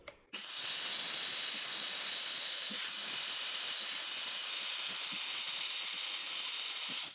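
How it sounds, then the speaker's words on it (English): A Harbor Freight Grant's steam cleaner hisses steadily onto a label, a loud unbroken spray of steam starting abruptly and running for several seconds before cutting off, with faint scraping underneath. "the steam is loosening up the label"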